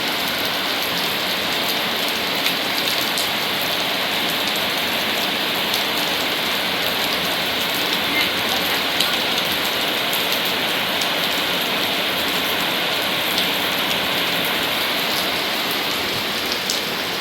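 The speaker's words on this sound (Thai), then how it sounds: "ฝนตก" Steady morning rain falls without a break, a dense even hiss of drops on surfaces that stays constant and fairly loud throughout.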